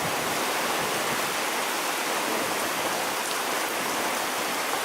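Heavy rain pours down without letup during a stormy evening, a dense, loud, steady hiss heard up close from under a shelter, with no voices.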